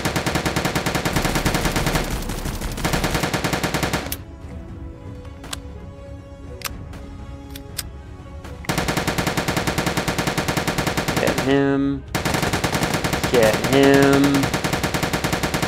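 Sustained machine-gun and rifle fire aimed at the player in a Soviet soldier war video game, loud and dense bursts that drop away briefly mid-clip before resuming, with a voice speaking over the shooting.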